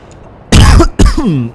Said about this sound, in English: Excuse my coughs.